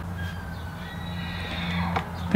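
A horse whinnies at moderate distance, a thin drawn-out call rising over a low steady background hum, faint and without talk.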